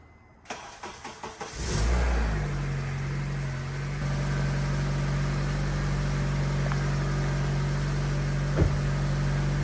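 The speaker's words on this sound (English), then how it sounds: "engine's running" A second-generation Honda CR-V (2002–2006), just back together after a clutch replacement, cranks over in several quick chugs, catches, and settles into a steady, close idle with a low hum.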